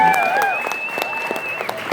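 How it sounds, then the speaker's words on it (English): An audience at a Sakura-Con 2016 convention Q&A panel claps in a sustained round of applause, with a voice and some tonal sounds ringing over the clapping. "give Jose a round of applause"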